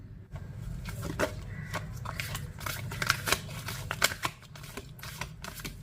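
Tarot-style cards being shuffled, with a series of crisp riffling and snapping flicks at an uneven rhythm, close but fairly quiet.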